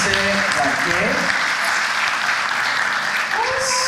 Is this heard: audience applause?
yes